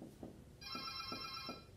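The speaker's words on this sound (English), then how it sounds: "our phone's ringing." A telephone starts ringing with a bright electronic trill that holds steady for over a second, heard up close in a quiet room with a few soft low thumps underneath.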